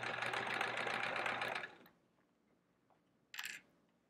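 Sewing machine stitching binding onto a quilt-as-you-go block, a steady close mechanical whir for under two seconds that stops, then a short quieter burst of machine sound.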